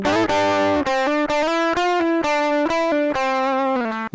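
Electric guitar played through the Cali JP amp model on a Temu multi-effect pedal, a clean-to-crunchy tone with sustained notes and short chord phrases played alone, no voice.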